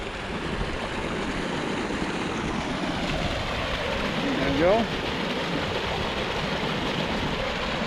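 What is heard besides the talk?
small waterfall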